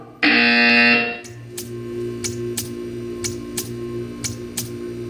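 A loud, harsh buzzer in the video game Portal 2 blares for about a second, then stops, followed by a low hum and a series of soft, evenly spaced ticks.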